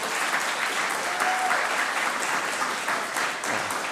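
Audience at a college alumni reunion event breaks into a round of applause, loud, full and steady clapping throughout with no voices on top.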